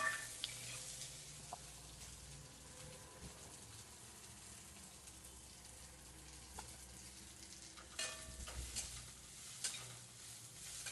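Finely chopped coriander sautés in oil over low flame for kothimbir vadi. A quiet, steady sizzle runs throughout, with occasional soft stirring scrapes and taps, loudest near the end. No one talks.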